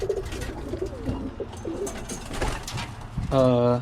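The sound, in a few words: Birmingham roller pigeons cooing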